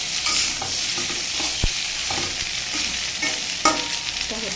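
Flat beans and potato fry in a pan with cumin and ginger, a steady close sizzle broken by a few sharp scrapes and knocks of a spatula stirring them.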